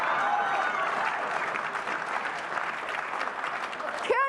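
A congregation at a Sunday worship service claps together in a dense, steady wash of hands, with a few voices mixed in.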